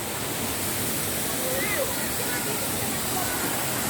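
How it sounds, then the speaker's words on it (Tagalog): A waterfall roars as a dense, constant wash of rushing water, loud and close, with faint voices barely audible beneath it. "Ganda ng falls."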